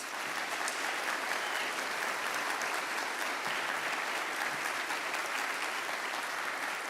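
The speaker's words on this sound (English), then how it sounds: "let's give them a round of applause, please" Graduation audience giving a standing ovation, a broad, continuous roar of many hands clapping at steady loudness, with no break for nearly seven seconds.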